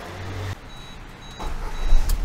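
A car engine with a decarbonization machine's hose fitted to the air filter intake, heard turning over and swelling into a low, close rumble toward the end, after a brief low thump and faint electronic beeps.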